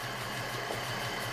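A BMW E34 fitted with a 3.7-litre stroker M30 engine idles rich, giving a steady, close, low rumble with a slight rhythmic pulse and no voices.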